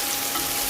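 Curry leaves hit hot oil in a pan while onions fry for a Kerala-style chicken rasam, giving a brief, steady crackling sizzle close up with no voices.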